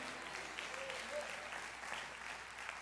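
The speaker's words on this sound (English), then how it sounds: "Clap your hands and say yes if that's your testimony." Church congregation clapping hands during an Easter Sunday service, a quiet sustained patter of applause with scattered sharper claps, distant and fairly faint, with a voice faintly present underneath.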